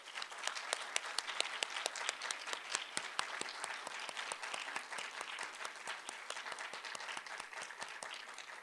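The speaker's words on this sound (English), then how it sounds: "Let's give them all a round of applause." Audience applause for young women competing in a state poetry recitation contest, a sustained crisp patter of many hands clapping, moderately distant and even throughout.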